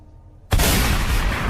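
A gunshot sound effect in a horror story: silence, then one sudden loud blast followed by a dense, sustained burst like a volley of gunfire.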